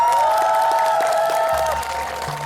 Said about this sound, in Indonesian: Boleh kita kasih tepuk tangan buat mie menjerit?